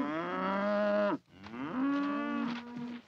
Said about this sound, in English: The cows are in here too.